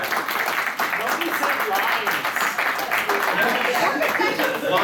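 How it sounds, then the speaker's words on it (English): An anime convention audience at PortConMaine breaks into a dense round of applause, many hands clapping loudly and continuously, with a bit of laughter mixed in. "Round of applause."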